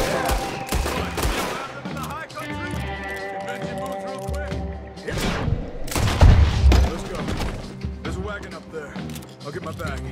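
Gunfire from Red Dead Redemption 2, bursts of repeated shots and heavier booms over several seconds, loud and close, mixed with music, with people talking in between.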